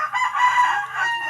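A rooster crows in one sustained, loud, near call with a rising and falling tone, heard alone without talk.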